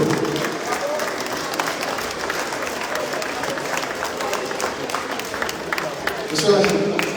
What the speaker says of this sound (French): Vos applaudissements pour lui